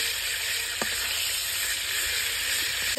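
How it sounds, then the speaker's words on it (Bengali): Red spinach frying in a pan: a steady, close, dense sizzle that runs unbroken throughout, with a couple of faint clicks and no voices. "লাল পালং শাকটা ভেজে নিচ্ছি"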